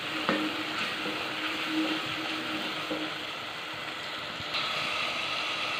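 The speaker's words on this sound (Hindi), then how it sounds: "अच्छी तरह इसको हिलाना है और ताकि जो टमाटर जो है वो नीचे ना लगें, मसाला नीचे नहीं लगना चाहिए" Tomato masala frying and sizzling in a pan for a tinda recipe, a steady loud hiss with occasional scrapes and knocks of a spoon stirring it, heard close and without talk.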